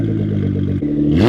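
A tuned Nissan GT-R engine revs loudly and close, a throbbing mechanical drone that briefly dips then climbs sharply in pitch at the end.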